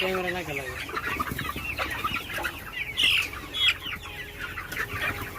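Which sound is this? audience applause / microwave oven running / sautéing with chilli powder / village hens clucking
village hens clucking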